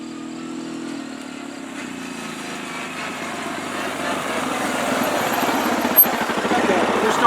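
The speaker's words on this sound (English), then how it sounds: "that just sounds mean. Stock exhaust except for a tip. That little tip makes a big difference." A Yamaha side-by-side running a stock exhaust with only an added tip revs up at a drag racing event, its buzzy, raspy engine note building steadily and growing louder throughout, close to the listener.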